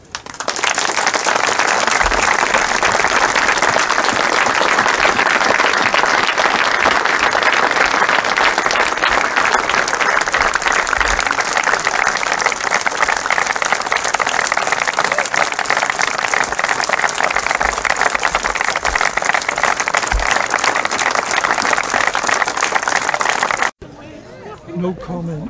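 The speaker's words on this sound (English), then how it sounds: "if you could be so good enough as to join me a minute's applause for one of the main reasons for the success of this league" Long, loud, unbroken round of applause at a cricket league dinner, many hands clapping steadily with crowd chatter and murmuring mixed in, ending abruptly as a voice takes over.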